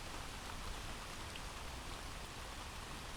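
Gentle rain falls in a soft, even hiss of countless drops, steady and faint with no voices or other sounds over it.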